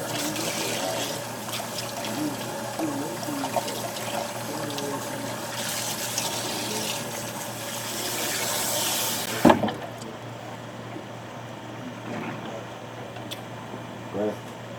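Tap water runs steadily at a barbering sink, a continuous close hiss and splash that cuts off abruptly with a thump partway through, leaving a quieter room.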